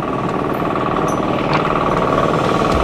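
Motorcycles rumble near the microphone as they ford a river beneath a long hanging bridge in the Philippines. The engines hold a steady, loud drone, like a continuous idle, throughout.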